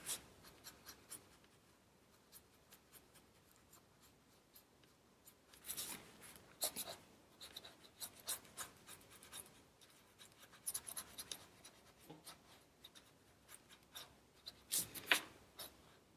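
Coloured pencils scratch and rub across paper while a tree is drawn, soft close strokes coming in quiet bursts with brief pauses between.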